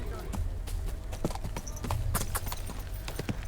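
Horse hooves clip-clop in the medieval role-playing game Kingdom Come: Deliverance II, a quick run of sharp, evenly spaced hoofbeats close by over a low ambient bed.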